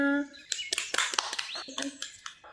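Children clap in a bright cartoon scene, a scattered burst of quick, sharp claps that starts after a sung tone and runs alongside high chirpy voices and birdlike tones.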